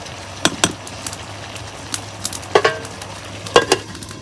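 Chicken being braised and stirred in a pan, with scattered sharp spoon clanks and scrapes against the metal over a low background sizzle, coming in irregular bursts.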